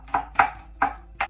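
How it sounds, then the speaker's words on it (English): A knife chops a shallot on a cutting board, four crisp, close thuds spaced at a steady, unhurried pace with nothing else heard. "So we're just gonna chop up this shallot here."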